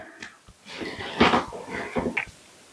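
Panting breaths from a worn-out puppy after a walk on the beach, soft rhythmic huffs close to the microphone with a few louder bursts in the middle, no talking.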